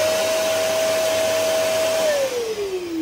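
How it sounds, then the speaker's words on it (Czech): A vacuum cleaner runs off a van's solar-powered inverter on 220 volts, a loud steady motor whine nearby that drops in pitch near the end as it bogs down or winds down, with no talking. "když tady vysávám"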